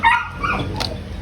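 A dog barks a few times in hot weather, short sharp yelps close by over a low background rumble, with no talking.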